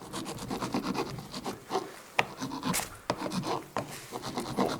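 A hand file rasps steadily across a soft lead 12V car battery terminal being reshaped to fit a Toyota Prius, with close, repeated scraping strokes and a few sharper clicks, no talking.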